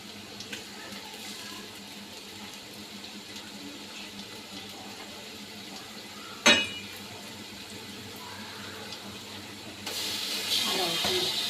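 Ginger and garlic are dropped into a hot pan in a home kitchen, and a loud, steady sizzling hiss rises near the end after a quieter stretch of low background hiss and a single sharp clatter.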